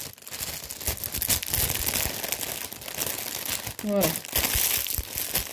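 Paper crinkles and rustles steadily as cross-stitch embroidery threads and fabric are wrapped, close and fairly loud, with brief speech partway through.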